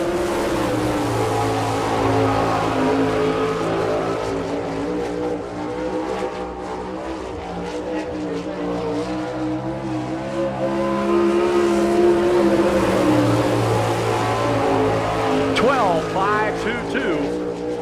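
Sprint car engines roaring around Chillicothe speedway in Ohio during an All Star Circuit of Champions lap, a loud continuous high-revving drone that swells and fades as cars circle, with a track announcer talking over it.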